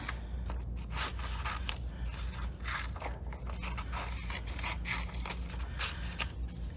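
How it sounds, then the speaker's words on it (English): Scissors snip out paper craft pieces for a Wookiee bookmark kit, a steady run of close, crisp cuts and scraping paper with no talking. "I'm just gonna cut out the things I have"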